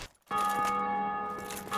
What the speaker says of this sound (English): I get a bell ringing.